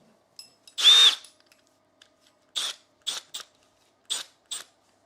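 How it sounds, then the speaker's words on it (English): An old, worn wood drill at work on a horizontal stabiliser: one longer whirring burst followed by several short, sharp, loud pulses spaced by silence, with no talking. "We got a proper wood drill."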